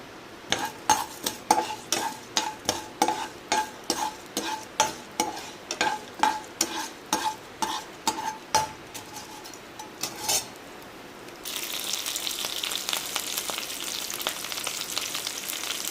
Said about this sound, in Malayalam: എണ്ണ ചൂടാവുമ്പോൾ ഇതെല്ലാം കൂടി ഒരുമിച്ച് പാനിലോട്ട് ഇട്ട് കൊടുക്കുക എന്നിട്ട് നന്നായിട്ട് ഇളക്കുക